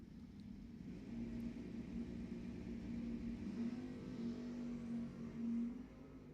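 At a dragstrip, a big block Chevy and a small block car race side by side, a steady distant engine drone holding one pitch at moderate loudness.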